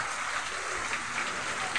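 Heavy typhoon rain in Metro Manila during Typhoon Carina, a dense, steady hiss of downpour pouring without letup.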